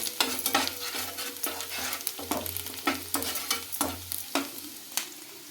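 Garlic, onions and green chillies fry in a pan for Chinese-style chilli chicken, with a constant sizzle broken by repeated scraping stirs in a steady rhythm, close and fairly loud, with no talk.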